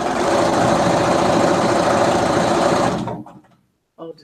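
A sewing machine runs at a steady fast buzz while stitching quilt fabric for a scrappy square dance mystery quilt, then stops abruptly, leaving near silence before a short burst of faint sound.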